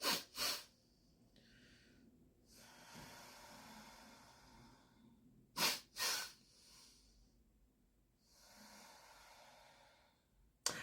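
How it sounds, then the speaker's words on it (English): A breathing exercise with a hand on the chest: two quick, sharp nasal inhales followed by a long, slow, airy exhale, the double-inhale-then-sigh pattern repeating twice, quiet and close with no talk. "hand on chest and double inhale and slow exhale"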